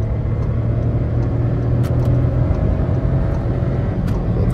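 A 2023 Volkswagen Virtus 170 TSI automatic with a turbocharged 1.0 engine cruising and overtaking on a highway, a steady loud interior drone of engine and road rumble, heavy in the low end, with no talking.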